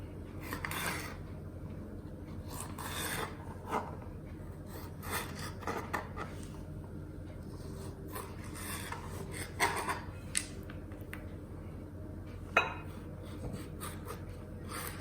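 A knife cutting a tomato into long thick strips on a board, soft repeated scraping and tapping strokes at an uneven pace, close and quiet, with one sharper click near the end and no talking.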